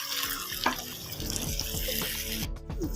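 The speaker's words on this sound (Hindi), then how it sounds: "अभी मैं इसमें थोड़ा सा पानी, बिल्कुल थोड़ा सा पानी ऐड करूँगी ताकि अच्छे से ये गल जाए" Water is poured into a pan of zucchini curry, a steady close splashing and sizzling wash that runs throughout at moderate level, with no talking.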